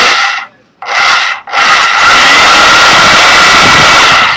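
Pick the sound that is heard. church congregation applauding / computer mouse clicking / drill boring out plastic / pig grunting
drill boring out plastic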